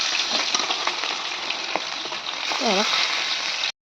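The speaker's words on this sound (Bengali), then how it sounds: "আমি মাছগুলো ভাজতে দিয়ে দিলাম।" Rohu fish frying in hot oil, a dense, loud crackling sizzle that runs continuously and close up before cutting off abruptly.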